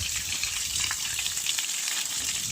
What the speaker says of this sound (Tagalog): Gasirit among tubig dire oh.